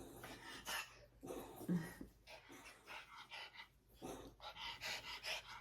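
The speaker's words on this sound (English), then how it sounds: "She's a sweet dog." An American Eskimo dog, the breed once called the German Spitz, pants close by in quick, uneven breaths, with soft whimpering and sniffing sounds between them indoors.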